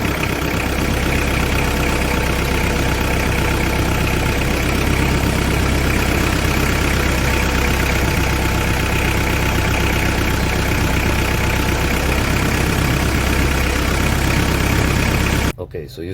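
A car engine idles steadily and loudly up close, its note sagging slightly as the steering wheel is turned and power steering load pulls the RPM down, a continuous drone that cuts off abruptly at the end.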